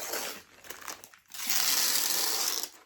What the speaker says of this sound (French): Pour retirer un peu de papier collant.